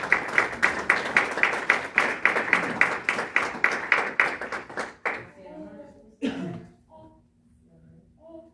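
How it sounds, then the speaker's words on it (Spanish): A church congregation claps in a fast, even rhythm at close range, then the clapping breaks off and gives way to scattered voices and a lone sharp sound. "Denle un fuerte aplauso a Dios."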